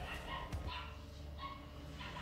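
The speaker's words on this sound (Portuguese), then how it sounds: "Desculpa, os cachorros continuam." A few sharp, high-pitched barks and yips from small pinscher dogs ring out at moderate distance against a quiet, humming background.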